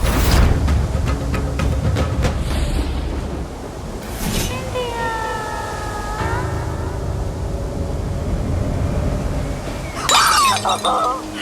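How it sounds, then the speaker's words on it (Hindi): A glass mirror shatters during a dramatic Hindi TV serial scene, a sharp crash with scattering glassy tinkles over a dense bed of dramatic music and sound effects. "ये लो, ये भी हो गया, अनर्थ हो गया, शीशा टूट गया।"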